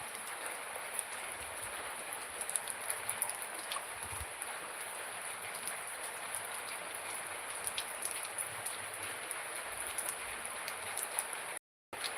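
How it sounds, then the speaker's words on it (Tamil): Light rain falls steadily, a soft even hiss of drops spread across the whole stretch with a few faint knocks and a brief dropout near the end, and no talking. "இப்போ தான் மழை லைட்டாக குறையுது ஆனால் இருந்தாலும் மழை பெய்"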